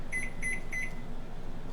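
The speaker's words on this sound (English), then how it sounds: "That was my timer here." Three evenly spaced electronic beeps from a kitchen timer while making a peaches and cream pie, clear and close, then the tone stops and only quiet room noise remains.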